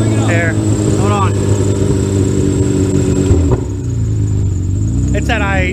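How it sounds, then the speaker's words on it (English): A small, worn-out car's engine runs loud and steady at a rough, unsettled idle with an idle air control fault, its low drone continuous throughout while people talk over it in a garage. "Just rev her up, give her a few."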